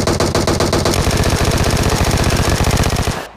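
Rapid automatic gunfire in the mobile game PUBG Mobile, a loud continuous burst of evenly spaced shots lasting over three seconds before cutting off abruptly.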